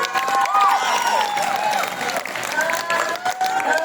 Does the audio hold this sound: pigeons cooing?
no